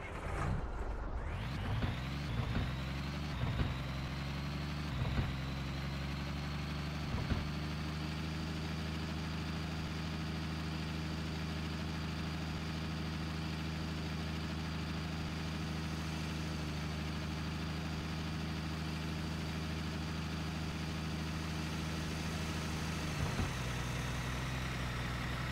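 A truck engine in the driving game Hard Truck idles steadily in a low, continuous rumble that lasts the whole stretch, with only small blips at a few points.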